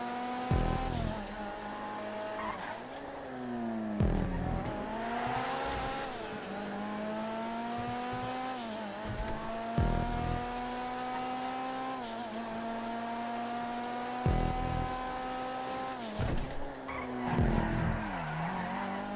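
Cars race around a track in Grand Theft Auto V, engines droning steadily with repeated revving shifts and tire squeals through corners, loud and continuous with no talking.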